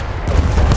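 Enemy machine gun fire in Battlefield 1 thuds as a dense, low, rapid rumble of shots, loud and close, with no talk over it.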